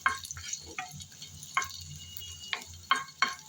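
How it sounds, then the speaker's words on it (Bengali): Garlic sizzles in a little hot oil while a spoon stirs it, sharp scraping strokes every half second or so over a low, steady frying hiss. "এই গরম তেলে দিয়ে দিলাম রসুন। নেড়ে চেড়ে ব্রাউন কালার করে রসুন ভেজে নেব।"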